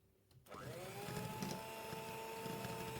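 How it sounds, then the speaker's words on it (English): An electric hand mixer on medium-high speed beats pound cake batter, starting abruptly after a brief quiet moment and then running as a steady, close whirring motor hum. "We're going to use the electric hand mixer again, and on medium-high speed, give this a good mix."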